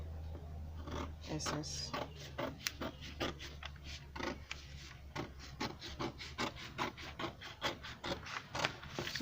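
Scissors snip through excess fabric while a night wear garment is being cut out, giving a steady run of close, crisp cuts and rasps with speech over them.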